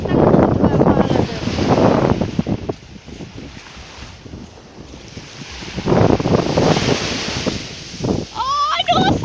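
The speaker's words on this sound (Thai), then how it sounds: "โอ้คลื่นใหญ่มากโอ้ยคลื่นใหญ่มากเลยดูสิ" Big ocean waves breaking on a beach, heavy surges of surf rolling in loud and close, buffeted by strong wind noise on the microphone, while someone talks excitedly over them.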